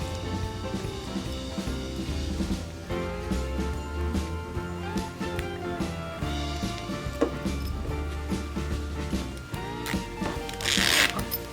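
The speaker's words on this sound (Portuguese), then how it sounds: "E vou encaixar aqui a cabecinha do cursor." A zipper slider is worked onto the cut teeth of a zipper while making a small fabric pouch, a run of close, soft clicks, scrapes and rustles with a brief louder burst near the end.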